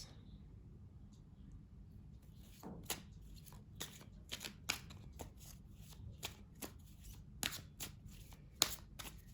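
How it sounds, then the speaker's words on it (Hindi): Tarot cards being shuffled and drawn, a faint, close run of quick papery flicks and snaps at an irregular rhythm over a quiet background. "चलिए निकालते हैं कुछ और कार्ड्स और देखते हैं क्या बताते हैं ये कार्ड्स।"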